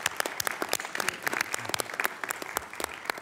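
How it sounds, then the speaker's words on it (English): Audience at a health care policy forum applauding a senator, crisp individual claps from a fairly small crowd heard in an uneven, fairly quiet burst with no speech. "Yes, you may applaud."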